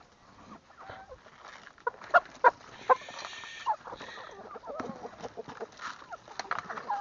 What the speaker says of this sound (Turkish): öncelikle tavuklarımıza yemlerini verelim